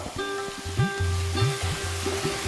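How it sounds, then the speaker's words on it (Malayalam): Chopped brinjal frying in hot oil in a pan for a Kerala-style curry, a steady close sizzle with the scrape of a spoon stirring through it in short repeated strokes. "ഈ എണ്ണയിൽ കിടന്ന് തന്നെ കത്തിരിക്ക നന്നായി വഴണ്ട് വരണം"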